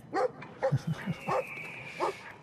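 Dog barking from the video game Brothers: A Tale of Two Sons: a run of sharp, close barks and yips with short gaps, loud over quiet game ambience.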